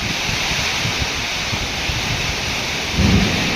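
Steady heavy rain hisses over a low rumble of thunder that swells near the end, with wind buffeting the microphone, as a storm hits a house in Laos.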